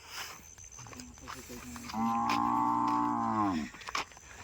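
Cattle by the Nangra river at dusk, with one cow letting out a long, low moo in the middle, faint outdoor background around it.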